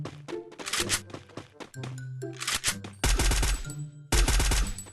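Gunfire in the Free Fire video game: rapid bursts of automatic shots and single heavy reports in uneven clusters, loud and close, with brief gaps between volleys and no talking.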